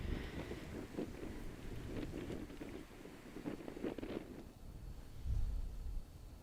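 Strong headwind buffeting across an open disc golf course, a rough, continuous rumble of wind noise in the microphone that surges and drops with gusts, loudest in brief bursts near the end.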